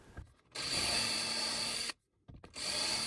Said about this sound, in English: drill out the pilot holes,